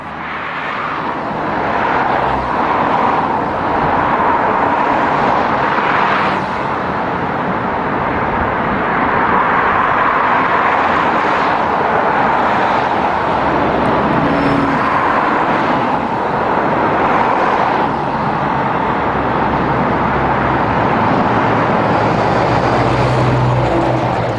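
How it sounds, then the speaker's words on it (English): Omnidecker double-deck bus on London route 292 motoring along the A1 south of Stirling Corner, a steady broad road roar of traffic with engine noise running continuously throughout, no talk. "Here's an other Edgware route, the 292, with an omnidecker motoring along the A1 south of Stirling Corner."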